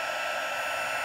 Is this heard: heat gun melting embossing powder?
yes